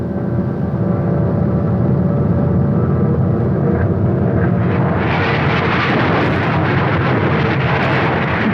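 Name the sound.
B-29 bomber aircraft engines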